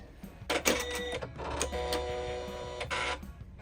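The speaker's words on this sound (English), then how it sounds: "first thing we're going to do is power on the machine" A Janome Skyline S9 embroidery machine powers on with a loud burst of electronic chiming tones and mechanical whirring, pausing briefly before a sustained stretch of bright, buzzy startup sound with a final swell near the end.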